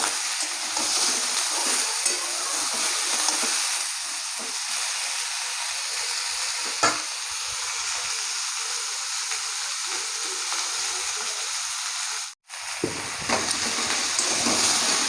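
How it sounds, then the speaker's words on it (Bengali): Tomatoes frying with onions and potatoes in a pan over a village cooking fire give off a continuous loud sizzle with occasional stirring scrapes and no talking. "এখন আমি এই টমেটোগুলো দিয়ে দেবো। টমেটোগুলো একটু ভেজে নেবো।"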